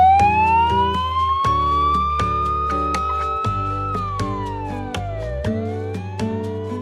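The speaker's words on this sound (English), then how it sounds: "Yeah, it was an ambulance going to an emergency." An ambulance siren on an emergency run through traffic wails loud and close, its pitch sweeping up and down in a continuous cycle over steady low engine rumble, with no voices.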